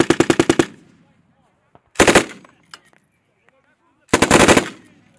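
Live firing of an M240B or M249 light machine gun on a military training range in Japan: three loud, close bursts of rapid automatic fire, each about half a second, separated by pauses with faint echo and movement.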